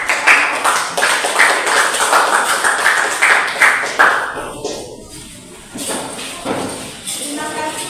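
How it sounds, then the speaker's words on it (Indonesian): Students in a classroom clap after a group presentation, a loud burst of rhythmic applause that thins out midway, with voices speaking over the tail end. "Oke, tepuk tangan."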